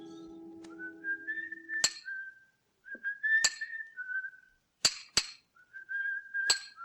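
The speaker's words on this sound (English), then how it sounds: "From the yard itself came a cheery whistle" A bright, cheerful tune is whistled nearby in a stonemason's marble yard, its phrases broken by sharp metallic clinks of hammer blows on stone.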